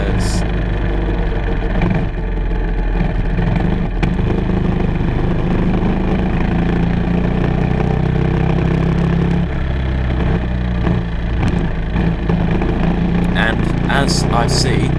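Racing kart engine running on a track, a loud continuous buzzing drone from close by with slight rises and falls as the kart weaves to warm its tyres, with a voice talking over it.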